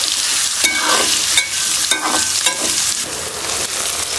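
Onions frying in a pan as the masala base for masala bhindi, a steady close sizzle broken by repeated stirring scrapes about every half second, with no talk over it.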